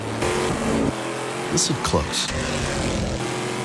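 Race car with an aluminum-block, titanium-valve V8 roars at full throttle during the Petit Le Mans endurance race, a loud continuous engine drone with passing surges, while someone speaks briefly over it.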